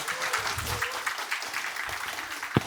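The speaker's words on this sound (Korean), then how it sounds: "큰 박수로 부탁드리겠습니다." An audience at an admissions information session claps together in a brief, steady burst of dense applause that fills the room, ending on a single louder clap.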